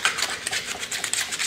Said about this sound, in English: and do a little quick sanding